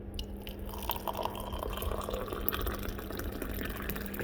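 Hot water falls from a height into a tea mug for a British cuppa, a continuous splashing, trickling pour that fills the mug steadily for about four seconds.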